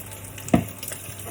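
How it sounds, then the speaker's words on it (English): Alcohol cooks off in a hot pan with a steady sizzle, broken by one sharp, brief splash-like hiss midway, close and moderately loud with no speech. "I'm going to cook off the alcohol."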